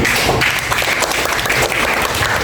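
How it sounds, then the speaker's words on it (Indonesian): Loud classroom applause from students during a teacher's lesson, a continuous dense patter of clapping close by throughout. "Kita kasih tepuk tangan."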